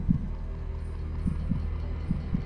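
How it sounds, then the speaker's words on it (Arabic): A slow, regular heartbeat thuds in low, soft pairs of beats spaced about a second apart over a quiet, humming background. "نبضات القلب،"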